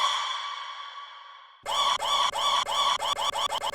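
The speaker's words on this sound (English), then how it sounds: "that's just a vocal that I took, pitched up, applied reverb, and stretched it so it kind of sounds like this" A vocal sample pitched up, drenched in reverb and time-stretched into a long sustained tone, then cut into a rhythmic run of repeated stuttering chops that speed up toward the end, with no speech.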